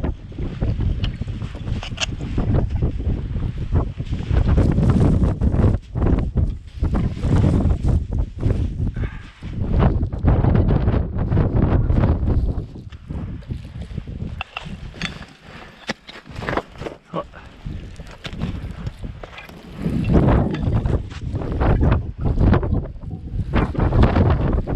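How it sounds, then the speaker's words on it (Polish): Strong gusting wind roars across a winter ridge on the Orla Perć route between Zawrat and Krzyżne in the Tatra mountains, buffeting the microphone loudly and continuously, with brief lulls between heavy blasts. "Generalnie jeśli taki wiatr będzie się utrzymywał"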